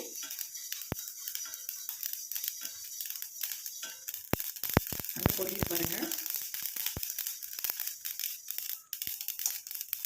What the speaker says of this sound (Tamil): இப்போ பாருங்கள் கடுகு நல்லா பொரிய ஆரம்பிச்சிருச்சு